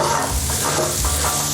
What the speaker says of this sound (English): this is 4, let's call them medium onions, that we're just gonna dump in